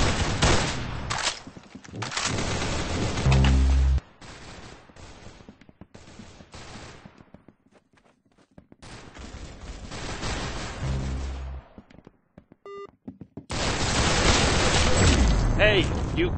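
Gunfire in the Arsenal video game: dense bursts of rapid automatic shots and booming blasts, loud and close, separated by quieter stretches, with voices talking over parts of it.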